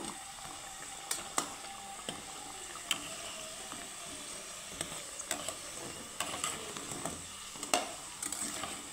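Chana dal and flour snacks fry in oil with a soft, continuous sizzle, broken by occasional light clicks and taps of a utensil; no voices.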